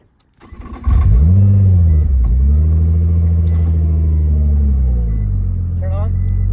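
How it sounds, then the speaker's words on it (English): A Nissan GT-R engine cranks and fires up nearby, settling into a loud, deep, steady idle rumble with a slight rev as it catches. "I'm gonna start the car and put it in reverse."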